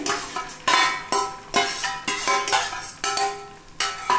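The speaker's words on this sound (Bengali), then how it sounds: "এটার মধ্যেও ডিমটা আমি দিয়ে দিচ্ছি" An egg goes into a Maggi roll cooking with very little oil in a nonstick pan, a spatula scraping and clinking in a steady rhythm against the pan, close and fairly loud, with no talk.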